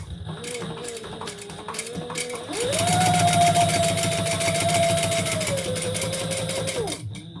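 A sewing machine stitches around a leather bag pocket with rapid rhythmic clatter, slowing briefly before speeding into a steady high whirring run, close and continuous.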